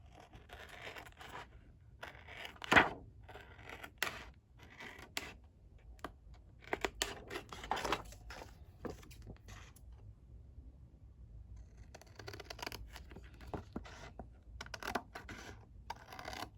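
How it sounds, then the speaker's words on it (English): Scissors cut around a photo being prepared for an engagement album, giving close, quiet, irregular snips and papery crackles in scattered bursts, with short pauses between cuts. "Then I'll just take my scissors and cut around it."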